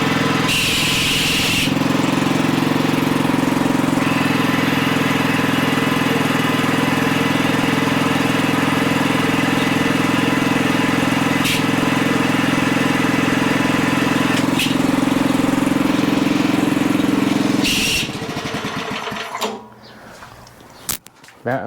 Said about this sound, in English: that amazing noise you're hearing is the clutch